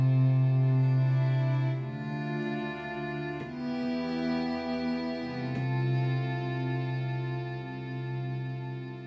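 A small string ensemble holds sustained, layered chords that swell and shift gently, with a few faint clicks in the background.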